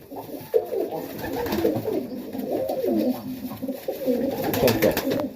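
Young Serbian Tippler highflyer pigeons, nestlings and juniors, coo steadily up close, their soft throaty calls rolling continuously with a faint voice in the background.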